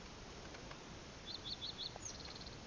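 Birds calling above the Missouri River at Niobrara State Park, Nebraska: a quick run of four faint, high chirps, then a single higher note, far off over steady outdoor ambience.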